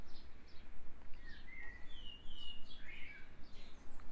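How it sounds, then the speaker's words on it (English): A male blackbird sings in an English garden in early May, whistled, warbling phrases rising over steady low background noise, moderately distant and continuous through the clip. "the blackbirds, which you can hear the male singing away"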